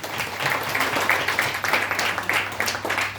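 Indoor audience at a company product presentation breaking into steady applause, many hands clapping together at close range for a few seconds.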